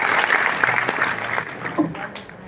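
An audience applauds to welcome the chief guest at an IAS academy event in India. The clapping is steady and fairly loud through most of the stretch, fading slightly near the end, with some voices mixed in.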